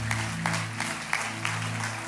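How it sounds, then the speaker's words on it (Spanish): Church congregation applauding for the King at a worship service, a short burst of scattered clapping, fairly faint, over a sustained low musical drone. "Dale un aplauso bien fuerte al Rey"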